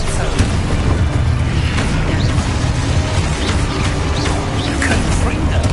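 Harry Potter video game combat with an Expulso spell explosion: dense booms and bursts pile up under continuous battle noise, loud and close throughout.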